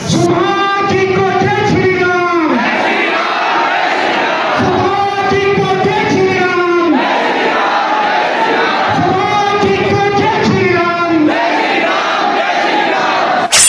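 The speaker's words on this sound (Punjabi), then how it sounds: "ਕੁਰਾਲੀ ਵਿੱਚ ਭਾਜਪਾ ਆਗੂਆਂ ਨੇ ਲਗਾਏ ਜੈ ਸ਼੍ਰੀ ਰਾਮ ਦੇ ਜੈਕਾਰੇ" BJP supporters in Kurali chant Jai Shri Ram in loud rhythmic unison, the slogan rising and falling in repeated call-and-response waves about every four seconds, with the crowd close and continuous.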